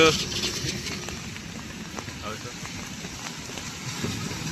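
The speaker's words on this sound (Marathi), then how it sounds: "हे बघा नुसता पाऊस चालू आहे" Heavy rain pours down in Balewadi, Pune, a continuous broad hiss with small scattered patters, while a voice speaks over it.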